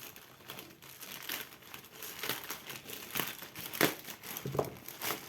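The plastic and cardboard packaging of a Rampage KB-R63 gaming keyboard crinkles and rustles as it is opened, with quiet, close, continuous handling and a few sharper crackles along the way.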